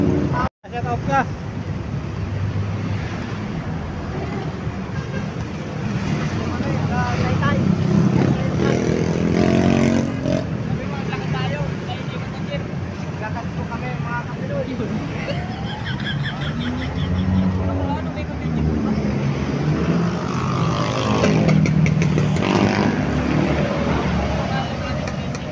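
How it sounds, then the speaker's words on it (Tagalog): Heavy Manila traffic of cars and motorcycles rumbles continuously, with engines swelling and passing and a motorcycle note rising at times, wind buffeting the microphone and people talking throughout. "ganito pala dito sa Maynila, ang daming sasakyan"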